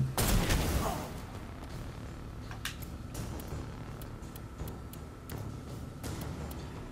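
A loud burst of gunfire opens the moment in the turn-based game Necromunda: Underhive Wars, followed by scattered, fainter cracks and ticking shots over a low ambient rumble.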